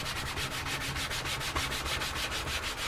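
A piece of canvas is rubbed back and forth over a leather possibles pouch, making a steady, close, rhythmic scratchy brushing with about twenty even strokes and no talk.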